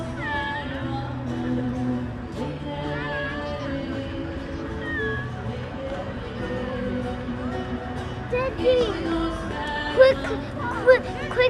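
A cat at its family's outdoor home in Antalya, Turkey meows repeatedly among people, the calls rising over steady crowd chatter and background talk, with sharper, louder meows near the end.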